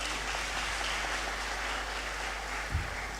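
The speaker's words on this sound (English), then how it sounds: "a round of applause for Dr. Nancy Miles Bafo Jemfi" Lecture audience applause at a memorial lecture, a steady dense wash of clapping that stays at an even level throughout, moderately distant in a large hall.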